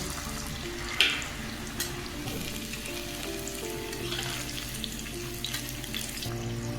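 Spinach pakoras deep-frying in oil over low heat produce a continuous, fairly quiet bubbling sizzle, with one sharp clink near the start and faint tonal background hum beneath.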